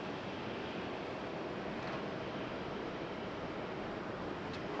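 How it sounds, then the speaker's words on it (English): An Airbus A220 jet departs runway 5 Right at Raleigh-Durham International Airport, a faint, even broadband rush of engine noise held steady throughout with no voices. "Departing at 5 right. Must have been an A220 because it was really hard to hear."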